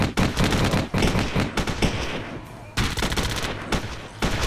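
Dense, loud bursts of rapid small-arms and machine-gun fire rattle almost without pause in the Theatre of War video game as German forces fight advancing French troops, with only a couple of brief lulls.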